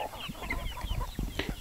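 Backyard chickens being fed pellets cluck softly and intermittently, several birds close by in a short burst of low murmuring calls.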